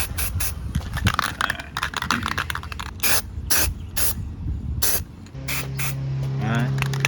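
Short bursts of aerosol chassis paint sprayed on a Chevy C10 chassis after welding, several quick hissing hits of varying length with gaps between, close and loud, followed by a steadier hiss with a low hum underneath.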